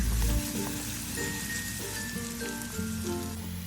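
Sliced shallots frying in oil for a savoury filling give off a continuous soft crackling sizzle, faint and steady, with small pops scattered through it and no voices.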